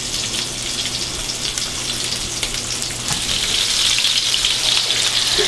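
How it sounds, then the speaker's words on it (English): Sausage browns in a hot pan with oil or fat, a steady loud sizzle and crackle of frying throughout with no voices, slightly brighter toward the end. "this is plenty hot for browning the sausage"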